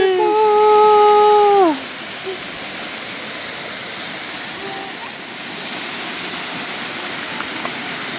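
A waterfall roars as a loud, steady broadband rush of falling water, while a voice calls out at the start with a long drawn-out shout and a brief call follows later.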